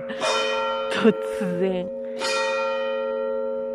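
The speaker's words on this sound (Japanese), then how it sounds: "教会の鐘が 鳴り始めました" Church bells ring out in Italy during the nationwide lockdown, their sustained, resonant tones layered and ringing steadily throughout, with a brief voice speaking over them.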